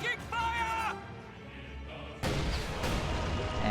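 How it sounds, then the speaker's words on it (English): Raketenwerfer rocket launcher fire aimed at a factory in a war strategy game, with a loud blast and rumbling impacts in the second half over dense battle noise, after a quieter stretch of mixed combat sound. "And he's firing the Raketenwerfer at this factory."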